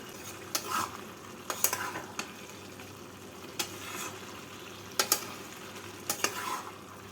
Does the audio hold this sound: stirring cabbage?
yes